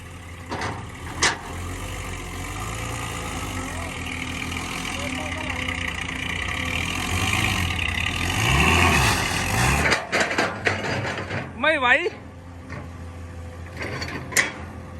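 An old manual-gearbox truck engine idles and runs steadily up close, with mechanical rumble and a brief rev change near the end, while someone talks over it.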